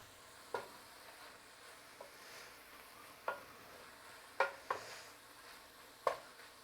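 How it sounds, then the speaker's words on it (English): Quiet frying hiss of beef in a hot pan runs throughout while a utensil scrapes and taps against the pan several times at irregular intervals. "A louder sizzle means it's fighting with less of the moisture coming out of the food."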